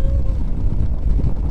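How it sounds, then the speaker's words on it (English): Low, heavy rumbling buffets the microphone continuously, a strong, cold winter wind roaring without pause beside a canal. "it's very windy"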